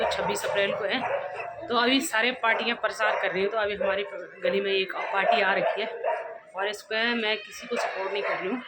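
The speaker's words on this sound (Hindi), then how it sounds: "और कुत्ते ऐसे भौंक रहे हैं ना उन पर" Dogs bark repeatedly in a residential street while a political campaign group passes through the lane during election season, the yaps and barks overlapping with someone talking steadily close by.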